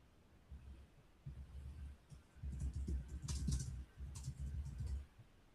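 Typing on a computer keyboard during a live online session, a faint, close run of soft key clicks in short bursts, with no speech.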